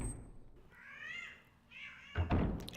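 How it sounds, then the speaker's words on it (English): A cat meows loudly nearby in two drawn-out, wavering cries, followed by a dull thump and rustle at the end. "the cat is being really loud"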